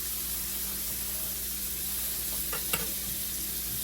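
Salt pork sizzles and fries in a big pot, giving a steady hiss all the way through with a brief clink near the end.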